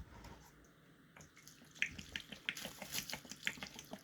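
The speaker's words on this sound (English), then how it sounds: "All I'm going to do is pour some water over the top of this." Water poured from a container over vegetable scraps in a cooking pot for homemade vegetable broth, a quiet splashing trickle that grows and turns into brief bright splashes and drips, close by with no talking.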